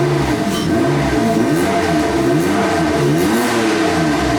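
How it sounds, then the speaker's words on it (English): A Mazda MX-5 engine on its first startup, revved several times close up, with loud rising and falling engine pitch swells over a steady rumbling idle, no talk. "Let's give it a few revs."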